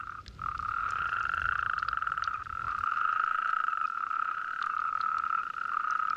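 Male Spanish toads call continuously from a pool, a dense, steady, fairly loud chorus of trilling croaks with several overlapping voices and no talk.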